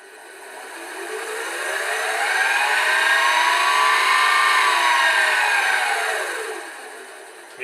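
An Optimum/Quantum milling machine runs after a repair, its steady whirring motor swelling to a peak in the middle and easing off again, heard close and alone.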